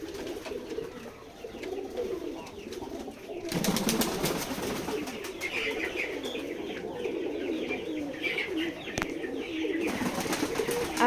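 Farm pigeons in a village loft at Betikhola, Keshabpur, Jashore coo continuously at close range, their low rolling calls steady throughout and joined by occasional chirps and rustling.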